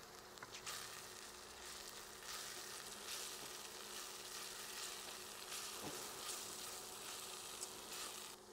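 Garlic frying in a pan for a Greek-style Metaxa BBQ sauce, a steady faint sizzle and crackle running without a break and with no voices.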